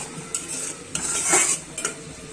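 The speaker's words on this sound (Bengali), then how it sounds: "এখন ভালো করে কষিয়ে নিচ্ছি" Masala for a hilsa fish curry with stalks being stirred and sautéed in a pan, close metal spatula scrapes and clinks over a soft steady sizzle.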